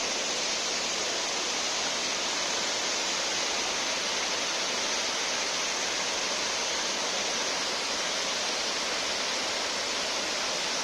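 Abbi Falls, a waterfall in Coorg, pours in a steady, dense roar of rushing water that holds even and unbroken throughout, with no voices.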